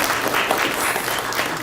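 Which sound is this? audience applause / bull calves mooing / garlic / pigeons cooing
audience applause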